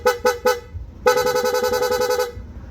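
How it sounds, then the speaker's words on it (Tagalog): An aftermarket horn on a Yamaha Aerox V2 scooter honks in three quick toots, then sounds a rapid pulsing burst that lasts over a second. It is loud and close. "PIA horn."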